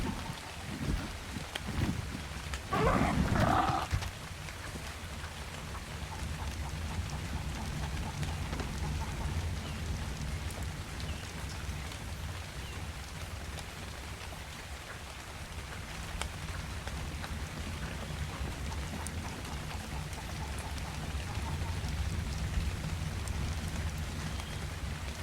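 Rain in a video game falls as a steady hiss of drops over a low rumbling bed, continuous for the whole stretch, with a brief louder burst near the start.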